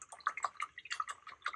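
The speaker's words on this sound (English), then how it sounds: "I should not hear your brush in the water." A paintbrush swished and rinsed in a cup of water during an art class, giving a run of small close splashes, drips and gurgles in quick irregular bursts.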